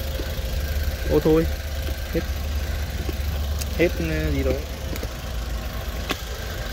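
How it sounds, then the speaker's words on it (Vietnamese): A 2010 Matiz Groove small car idles with a soft, steady low engine hum, while people talk intermittently nearby over it. "máy nổ êm như không nổ luôn"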